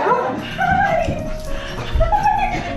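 A dog reunited with its owner after a year whines and whimpers in high, wavering cries with a few yips, loud and close, mixed with faint human voices and rustling.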